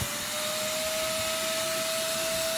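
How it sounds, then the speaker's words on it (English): A wet vacuum runs steadily as it sucks up standing water from a storm-flooded garden, a constant loud motor drone with a sustained whine and no talking. "so I just started sucking the water up"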